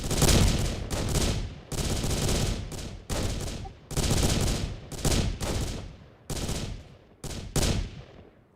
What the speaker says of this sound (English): 3 shots in succession on my order.